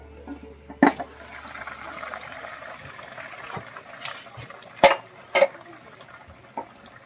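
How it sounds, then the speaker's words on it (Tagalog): Chicken soup with green papaya bubbles and simmers softly in a pot, broken by a few sharp metallic clinks from a lid rattling. "Kumukulo-kulo na talaga at parang tatapon talaga yung takip niya."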